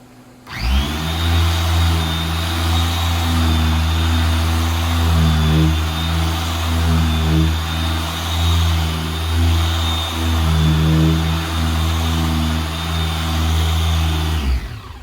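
A 2023 BMW M440i engine runs at steady speed, close and loud, with a constant droning hum and whine that swells and eases a little. No voices are heard.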